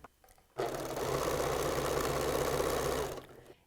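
Sewing machine stitching temporary binding onto a T-shirt quilt, a steady close-up mechanical whir running for about two and a half seconds, starting and stopping abruptly with quiet before and after.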